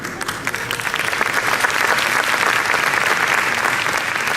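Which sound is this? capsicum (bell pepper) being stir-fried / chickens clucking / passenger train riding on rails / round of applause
round of applause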